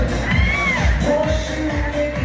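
A wedding crowd cheers loudly, with rising whoops and shouts layered over a steady roar of voices that carries through the whole moment.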